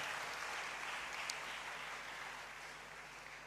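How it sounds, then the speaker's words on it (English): Steady applause from the audience at a School of Pharmacy white coat ceremony, fairly faint and distant, an even wash of clapping that slowly tapers off. "I thought you would clap for School of Pharmacy and for University of Ghana"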